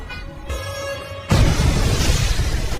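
A film explosion bursts in suddenly as a loud, broad blast that cuts off a tonal musical passage, then roars and rumbles for over a second before ending abruptly.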